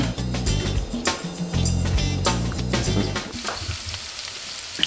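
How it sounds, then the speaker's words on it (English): Panko-breaded chicken crackles and sizzles steadily in olive oil in a pan, with a few knocks and scrapes of a utensil, fairly close. "Pretty soon you're gonna hear it sizzling."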